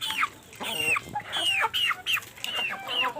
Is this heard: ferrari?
no